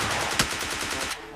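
Rapid automatic gunfire in a battle royale video game rattles in a dense, even burst of close shots, with one sharper crack partway through and no talk.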